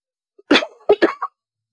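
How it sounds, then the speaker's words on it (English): A person clears their throat with a few short, rough bursts, close and fairly loud, separated by brief pauses, in a quiet room during an acrylic flower painting session. "I just had to clear my throat, that's all."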